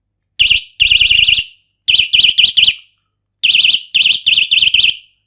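A loud electronic bicycle alarm accessory wails in warbling bursts, one short blast then a longer run, several rapid pulses, a pause, and another set of pulsing blasts, close and piercing with no talk.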